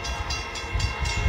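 An F59 diesel locomotive passes a railroad crossing in Fremont, California, with a deep rolling rumble and a brief pulse of horn, loud and close.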